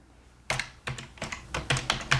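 Python code being typed on a computer keyboard: a quick run of sharp key clicks in an uneven rhythm, close and clear with no voices.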